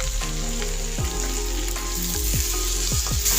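Garlic and ginger pieces, with cinnamon and cloves, fry in oil in a pan for restaurant-style paneer malai kofta, giving a steady close sizzle broken by several sharp utensil scrapes and stirs.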